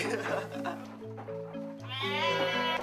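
A young Garut sheep bleats in quavering calls, close and clear, with a person talking over it and a steady musical tone in the background.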